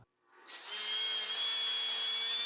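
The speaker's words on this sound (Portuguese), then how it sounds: "pude virar a peça, furar o buraco no deslocamento" Power drill boring a hole through a wooden rail of an adjustable clothes-drying rack, spinning up after a brief pause into a loud, steady whine that holds to the end.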